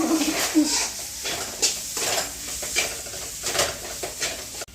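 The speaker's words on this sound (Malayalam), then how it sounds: "അപ്പൊ നമ്മുടെ മസാലകളൊക്കെ നന്നായി ചൂടായിട്ട് അതിന് തക്കാളി ഇട്ട് കൊടുക്കുകയാണ്." Tomatoes tipped into hot spiced masala in a pan for a Palakkad-Thrissur style biryani, with soft sizzling and repeated close scraping and stirring clinks of a utensil against the pan.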